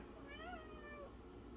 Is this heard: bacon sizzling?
no